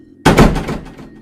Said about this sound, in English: She was slowly but loudly slamming her hand on one of the boxes, producing an unnatural sound.